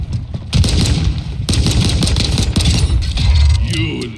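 Gunfire in Call of Duty: Modern Warfare 2, loud rapid bursts of automatic shots in close succession with sharp cracks and booming low rumble, nearly continuous for several seconds.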